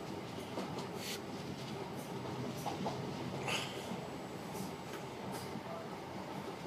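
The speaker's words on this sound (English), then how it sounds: "Train just moved from Hadfield." Northern Rail unit 323229 pulls away from Hadfield station, a quiet, steady rolling rumble of wheels on track with faint clicks and light squeals, recorded from a distance.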